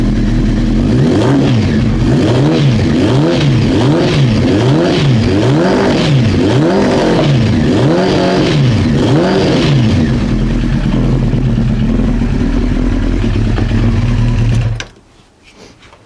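Honda CBR 900 Fireblade motorcycle engine with running issues, idling loud and close with a rhythmic rising-and-falling hunting surge for about ten seconds before settling into a steadier idle and cutting off abruptly near the end.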